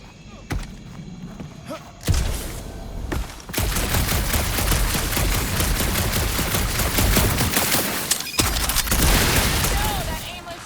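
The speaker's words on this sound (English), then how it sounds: "That aimless shooting isn't gonna scare the monsters away, right?" Heavy, continuous gunfire from a firefight in a dark area of the Guardians of the Galaxy video game, loud and dense for several seconds with thuds and booms, and voices speaking over it.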